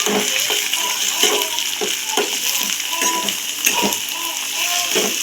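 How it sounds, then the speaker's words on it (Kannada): Carrot and tomato fry in a pan for an okra palya, with a steady close sizzle and regular stirring scrapes over it. "ಕ್ಯಾರೆಟ್ ಕ್ಯಾರೆಟು ಮತ್ತು ಟೊಮಟೊ ಎರಡು ಟೊಮಟೊ ಚೆನ್ನಾಗಿ ಫ್ರೈ ಮಾಡಿಕೊಂಡು"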